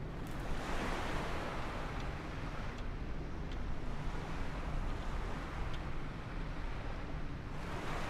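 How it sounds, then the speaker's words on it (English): Ocean waves in the Microsoft Flight Simulator game make a steady, broad wash of surf noise with faint wind, continuous and unbroken with no voices. "look at those waves,"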